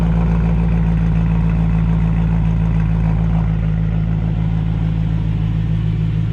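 An E92 BMW M3 engine idles with a steady, deep, throbbing rumble that stays close and even throughout, with no voices.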